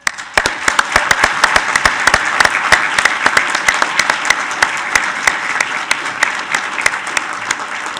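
Audience at a United States Naval War College graduation ceremony applauds the March graduates, a steady, dense round of clapping with sharp individual claps standing out throughout.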